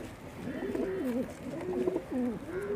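Domestic pigeons coo up close, repeated throaty rolling calls in quick succession, with faint room noise behind.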